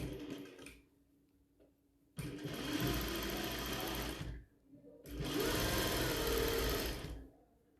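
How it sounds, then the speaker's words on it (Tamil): Sewing machine stitching fabric for a scrunchie made from old cloth, running in two long, loud continuous bursts after a brief quiet pause, with no talk. "இப்போ இதை வந்து இப்படி மடித்து எண்ட் பாயிண்டில் ஒரு தையல் போட்டுக்கணும்."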